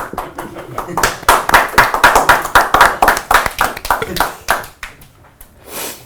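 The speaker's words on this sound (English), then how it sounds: "Give him a clap." Several people clap together in a loud, sustained burst that peaks and then thins out to a few scattered claps, with voices mixed in.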